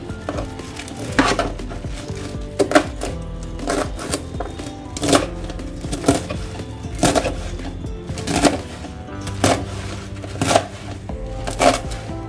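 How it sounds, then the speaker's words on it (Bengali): A knife chops tender Malabar spinach (pui shak) on a board in a home kitchen, sharp regular cuts in quick bursts with short pauses between, close and clear with no talking. "এবারে পুঁই শাকটা কেটে নিচ্ছি"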